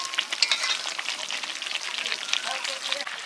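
Meat curry sizzling loudly in a pan as water is added, a steady hiss and crackle with stirring, close up and continuous, with no talk.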